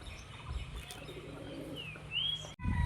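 Domestic pigeons flying outdoors on a very windy day, with soft cooing and chirping calls heard over steady wind noise, ending in a louder rustle close to the microphone.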